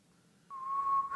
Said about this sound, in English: we hear someone whistling in the distance